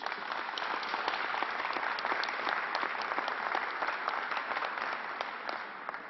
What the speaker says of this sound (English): let's give a round of applause to all New Yorkers